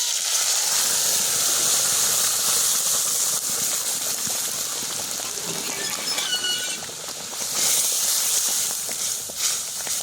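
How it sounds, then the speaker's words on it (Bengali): Cooked masoor dal poured into a hot pan of garlic and chilli fried in mustard oil sets off a loud, steady hiss and bubbling sizzle that holds for ten seconds, swelling slightly toward the end, with no speech. "এখন আমি দিয়ে দিচ্ছি সেই ডালটা।"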